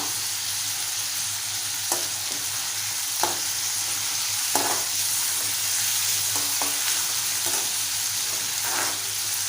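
Curry leaves frying in hot oil for spicy Maharashtrian prawn rice: a loud, constant crackling sizzle with occasional spoon knocks and scrapes against the pan, no voices.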